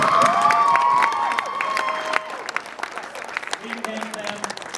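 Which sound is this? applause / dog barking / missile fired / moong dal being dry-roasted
applause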